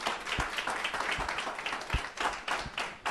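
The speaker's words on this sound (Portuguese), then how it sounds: "Dê um aplauso a Jesus por isso." A church congregation claps during a sermon. The claps are loose and uneven, with a few heavier hits standing out against a busy, reverberant room.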